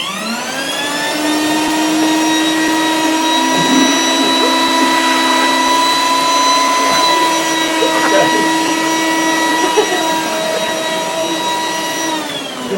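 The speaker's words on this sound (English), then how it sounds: "You ever vacuum lampshades?" A vacuum cleaner runs continuously while cleaning a fabric lampshade with a black cloth, its steady motor whine with strong tonal harmonics close and loud, and brief changes in pitch as the nozzle moves across the shade.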